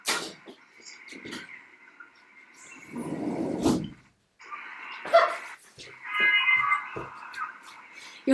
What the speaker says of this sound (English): She's just barking at somebody.